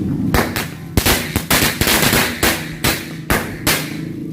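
Mercon korek firecrackers, from a batch of thirty packs set off for Lebaran 2026, burst in a loud, irregular string of sharp cracks and pops, close by, with no voices.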